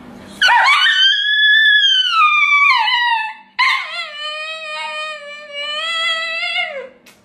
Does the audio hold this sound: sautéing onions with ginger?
no